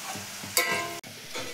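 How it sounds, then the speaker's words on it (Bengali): Onions fry in a wok with steady sizzling, broken by a sharp stir-scrape and a brief cut-off, close and moderately loud with no voices. "এই যে পেঁয়াজ ভাজা হয়ে গিয়েছে,"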